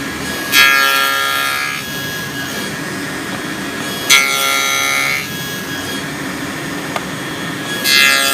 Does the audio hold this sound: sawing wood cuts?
yes